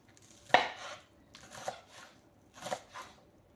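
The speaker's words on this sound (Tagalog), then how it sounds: "Ito na naman dahon ang hihiwain natin guys." A knife chops leafy vegetable greens on a board in a few crisp, quiet cuts, one louder strike followed by softer paired chops spaced a second apart.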